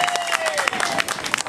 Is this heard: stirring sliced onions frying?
no